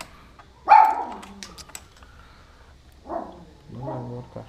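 A dog barks once, close and sharp, at a house where brake pads are being changed, followed by a couple of softer, lower vocal sounds.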